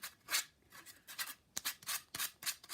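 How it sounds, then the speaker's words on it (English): Sandpaper scrubs over splintered wood in short, rhythmic back-and-forth strokes, each one a quiet, close rasping burst separated by brief pauses. "Any little pieces that are splintered, clean them up with some sandpaper."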